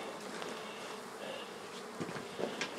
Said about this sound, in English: You can see the honeybees are working it.